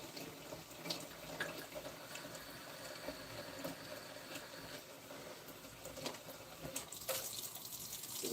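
Water drains steadily out of a filling appliance, a continuous trickling wash that stays fairly faint and even, with a few brief louder splashes near the end.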